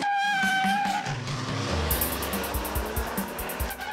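A 2013 Toyota Tacoma V6 4x4 pickup with an automatic transmission accelerates hard down a quarter-mile drag strip. The engine roars loudly and steadily, with a rising whine and tire noise, and no talk over it.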